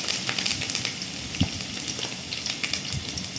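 Garlic, dried red chillies and curry leaves crackling in hot oil in a kadai, a dense patter of small pops and sizzles with a sharper crack partway through.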